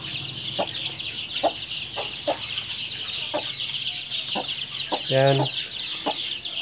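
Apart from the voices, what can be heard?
mother hen clucking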